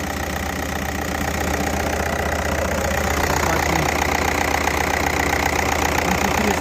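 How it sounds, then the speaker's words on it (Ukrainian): A 2006 VW Golf Plus 1.9 TDI diesel engine idles close by with a steady, even hum and a faint regular knocking rhythm, continuous throughout with no talking. "мотор працює рівно, абсолютно нормально"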